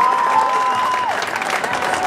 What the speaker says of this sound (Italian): facciamogli un altro applauso